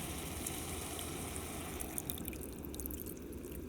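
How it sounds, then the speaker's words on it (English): Water pouring into a metal Yugoslavian Army mess kit over pieces of meat, a steady close trickle and splash with scattered drips toward the end. "add some water, basically just enough to cover the meat"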